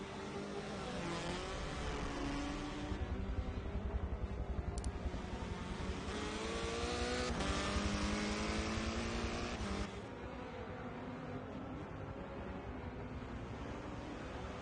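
Race car engines in a racing video game roar steadily through the whole stretch, several cars close together with rising and falling pitch, a slight drop in level near the end.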